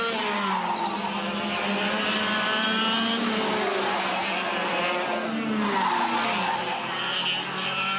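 Yamaha junior racing karts in a 2011 CIK final in New Zealand, running close together: several high, wailing engines rise and fall through the gears with a squeal of tyres, loud and continuous.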